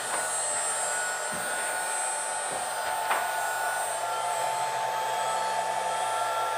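A Shark HD4 CNC machine's spindle runs with a steady, high-pitched whine and a constant hum throughout, a few faint knocks and clicks breaking in now and then, loud and close with no talking.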